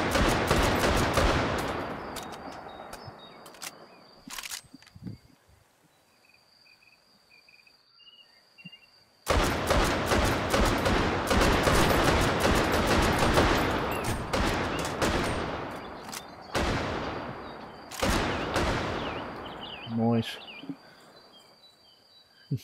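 Rapid bursts of gunfire in the VR shooter H3MP, loud dense volleys that break off into a near-silent gap, then resume in heavy sustained firing with sharp single shots toward the end.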